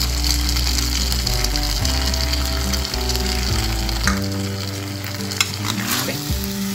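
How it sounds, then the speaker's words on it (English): Fried cauliflower goes into a pan of sizzling Manchurian sauce and is turned over, making a loud, continuous frying hiss with repeated scraping and clattering of the utensil against the pan, close and without talk. "Now I'm adding the fried cauliflower."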